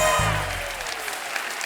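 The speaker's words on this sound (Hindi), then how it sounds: "एक बार हमारी टीवी क्वींस के लिए जोरदार तालियां हो जाएं।" The studio audience of a Hindi TV comedy talk show breaks into a loud, dense burst of applause, a brief wash of clapping heard alone.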